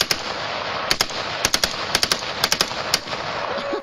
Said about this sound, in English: taking on a machine gun at age 4